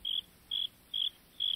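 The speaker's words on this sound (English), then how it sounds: "There was a chirping sound outside her window." Crickets chirping at night outside a window, four short, bright, evenly spaced chirps alone over a faint background hiss.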